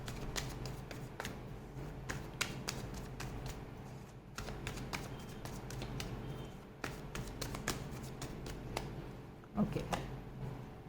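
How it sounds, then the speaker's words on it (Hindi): Tarot cards being shuffled by hand, a series of soft, quick riffling taps and slides repeating close up and fairly quiet, with no talking. "अच्छे से कार्ड्स को पहले मैं शफल कर लेती हूँ जल्दी से।"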